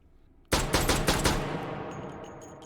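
AMag V pistol fired in the VR game H3VR: a burst of about five sharp, loud shots in quick succession, each with a bright crack, followed by a long reverberant ring-out with no talking.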